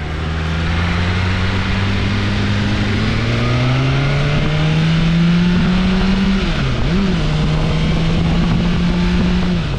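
A loud BMW M1000R motorcycle engine holds a steady drone, then its pitch climbs and dips as the throttle opens, with no voices over it.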